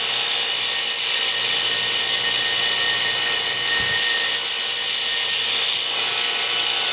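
Steady, continuous abrasive whine of a belt sander's contact wheel grinding a vintage axe head, loud and unbroken for the whole stretch with a faint low hum beneath.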